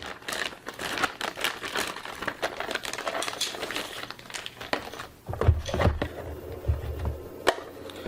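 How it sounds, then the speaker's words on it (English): Packaging of a Netgear WAX610 WiFi 6 access point being unwrapped nearby, with steady crinkling and rustling broken by a few sharp knocks and thumps as pieces are handled. "So let's unwrap the access point."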